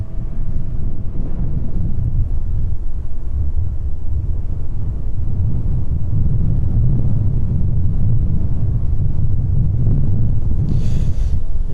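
Strong wind roars and buffets the microphone at East Midlands Airport, a loud continuous low rumble throughout with no talking.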